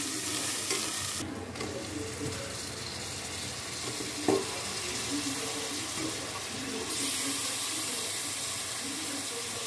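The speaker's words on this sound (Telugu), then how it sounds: "చికెన్ యాడ్ చేసుకున్న తర్వాత కలుపుకొని కొద్దిసేపు ఉడికించుకోవాలి." Chicken being stirred into a curry pan with turmeric, a continuous sizzle and frying hiss with scraping stirs and a brief knock, steady and close throughout.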